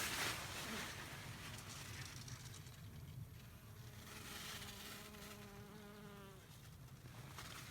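Honey bees work a blooming sunflower crop in an open field, a steady, soft swarm drone with individual insects buzzing close past, one passing hum gliding in pitch midway through.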